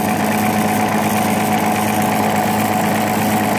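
An eight-cylinder engine idles steadily and loudly close by, a continuous even rumble with no pauses and no talk.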